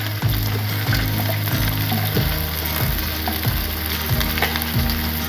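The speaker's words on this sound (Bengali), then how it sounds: "কুমড়ো শিম দিয়ে একটু নাড়াচাড়া করার পরে দিয়ে দিচ্ছি কাঁচামরিচ।" Pumpkin and beans being stir-fried with green chillies in a pan, a steady loud sizzle broken by a regular ratcheting scrape of stirring about every half second.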